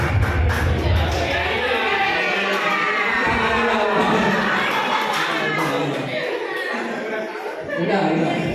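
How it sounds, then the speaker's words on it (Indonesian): A group of teachers at a counselling workshop session claps and cheers together, a dense, lively wash of applause mixed with chatter, laughter and shouts, sustained at steady loudness with a brief dip near the end. "Tepuk tangan untuk kita semua."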